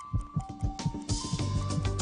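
A rhythmic thumping heartbeat sound effect in a television commercial, beating quickly and evenly about four times a second over a low hum.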